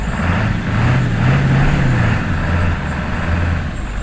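A 1997 Ford F-350 truck with a slipping transmission revving at high RPM, a loud, continuous, close engine roar that rises and falls slightly.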